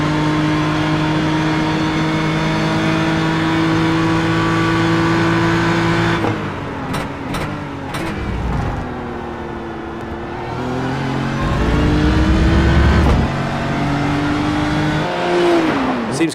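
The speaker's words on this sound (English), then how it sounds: "the on board with the BMW. It doesn't rev as hard, or it's not as aggressive in sound and movement as some of the other cars." Onboard with a BMW sports race car lapping Road America: a loud steady engine note holds, then drops sharply with quick gear shifts, pulls back up through the revs and eases off again near the end, with no talk.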